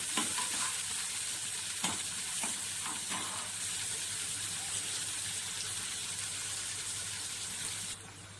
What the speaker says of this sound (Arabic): هنشوح بقى الفص الثوم اللي احنا عملناه